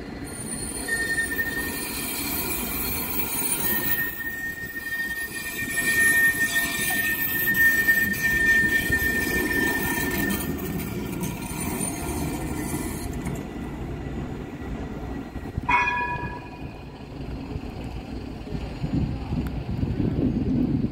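Tram passing at Old Market Square in Nottingham, a loud steady rolling rumble with high wheel squeals and wind buffeting the microphone, no talk.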